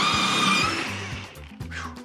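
A Kreg pocket hole joiner drills pocket holes in a board, with a loud close whine that winds down into a rapid series of shorter bursts and thumps.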